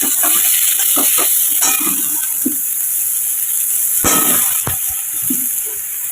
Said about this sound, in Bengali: পালং শাকের জন্য বড়ি ভেজে নিচ্ছি